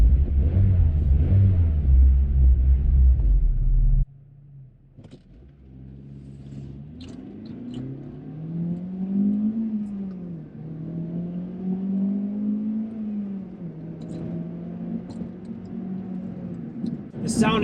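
A naturally aspirated Acura RSX-S with a VTEC engine and an 8,100 rpm redline revs up and down in a run of rising and falling sweeps, loud and close. Brief talk comes before the engine.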